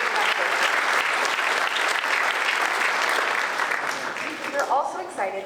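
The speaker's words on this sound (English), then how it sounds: "Another warm round of applause for our panel." An audience at a sports business keynote applauds a panel with a full, steady burst of clapping that thins out toward the end as a voice begins speaking over the dying applause.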